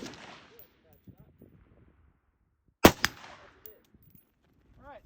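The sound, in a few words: AR-15 rifle shots at target while zeroing red dot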